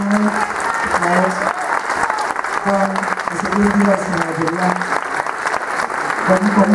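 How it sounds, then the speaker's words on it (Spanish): Audience applauding the band musicians at a live café concert, steady clapping across the whole stretch, with an announcer's voice speaking over it in places. "Voy a volver a pedir un aplauso para los señores músicos de la banda."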